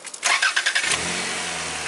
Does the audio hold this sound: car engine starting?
yes